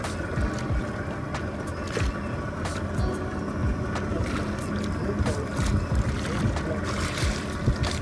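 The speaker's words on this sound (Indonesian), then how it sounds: "Anginnya lumayan kenceng bosku." Strong wind gusts buffet a fishing boat at sea in a fast current, a steady rushing roar with scattered knocks and thumps from the hull, and no speech.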